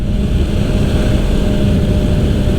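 A Kawasaki Ninja 500 motorcycle cruises at 60 mph in 5th gear, a loud continuous engine drone buried in heavy wind roar, steady and unbroken.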